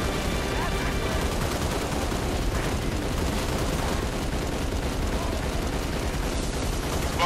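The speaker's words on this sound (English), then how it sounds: "Let's keep shooting randomly, I guess." Dense, continuous gunfire from the video game Halo Reach, rapid overlapping shots and blasts packed tightly together at steady loudness throughout, with no gaps.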